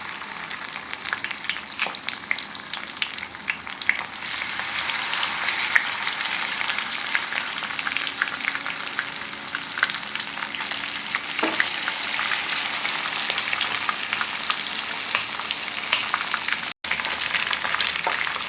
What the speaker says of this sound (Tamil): எண்ணெய் நல்லா காஞ்சிட்டு இப்போ ஃபிஷ்ஷு ஒன்று போட வேண்டியதான்